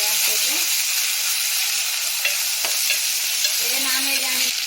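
Ginger garlic paste being stirred into an egg curry in a hot pan, a steady sizzling fry with spoon scraping throughout, no talk.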